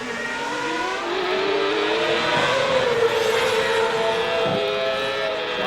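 A CART race car at full throttle on the run to the Montreal hairpin, a loud continuous high-pitched engine scream rising steadily as it accelerates.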